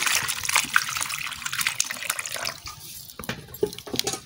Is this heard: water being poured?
yes